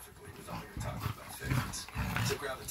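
A dog growls in bursts during a scuffle with an old pit bull, low rumbling snarls recurring close by under people talking.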